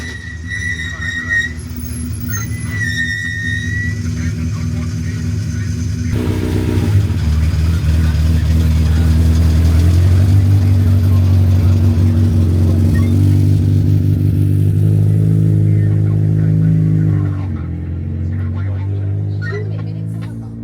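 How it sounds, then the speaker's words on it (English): A rally zero car driving through the opening stage of the Jim Clark Rally, an engine note that rises loud and steady, revving as it passes close by, then fades away. "Here comes the zero car."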